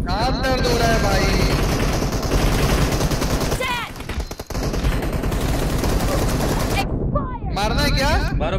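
Rapid bursts of automatic gunfire in a mobile shooter game's team deathmatch, dense and continuous with brief pauses, while a player talks excitedly over the shooting.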